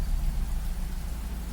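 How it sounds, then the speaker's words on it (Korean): Heavy rain pours down in a steady, dense hiss that stays even throughout, with no voices or thunder. "천지에 쌀알이 쏟아지는 듯한 빗소리"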